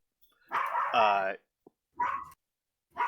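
Dogs barking and yipping in a home, a few close, sharp barks with a whimpering, whiny tone, in short bursts separated by silence.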